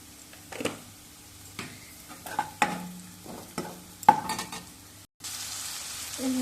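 Softened onions fry with a little cumin powder and turmeric powder while a spatula stirs, making intermittent scraping taps over a low sizzle; a steadier hiss takes over after a brief break.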